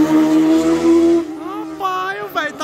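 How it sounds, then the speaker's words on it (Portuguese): A car in a street race revs loudly with a steady, buzzing engine note that drops away, followed by gliding, swooping engine pitch as it drifts, with voices nearby. "Vai fazer um drift aí."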